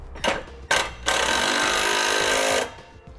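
Socket wrench, with a 3/4 inch socket, snugging down the mounting hardware of a Curt trailer hitch receiver, two quick bursts followed by a longer steady run of buzzing, close and loud.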